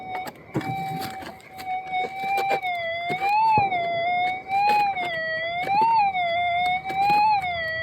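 A steady electronic high-low target tone from a Garrett Axiom metal detector with an 11-inch monocoil warbles up and down in pitch, with scraping and clicking handling noises beneath it.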